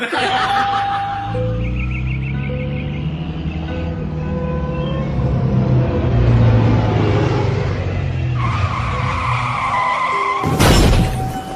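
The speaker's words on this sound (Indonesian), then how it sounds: "Tuh tingali mobil urang jadi rusak gara-gara didinya ngarem ngadadak." A car brakes suddenly with a drawn-out tonal skid, then a loud crash breaks out near the end, all under bursts of laughter in a comic skit.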